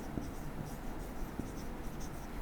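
A pen scratches steadily across paper while a maths lesson on large numbers is worked out, a soft continuous close-up scribbling with small tapping strokes and no talk.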